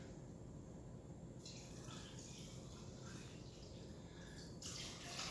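Water from a can poured into a chicken and rice casserole mix with broccoli and cheese, a steady close splashing pour that runs for several seconds and brightens near the end.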